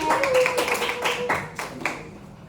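A small group clapping hands in a classroom, a short flurry of claps that quickly thins out and fades within a couple of seconds.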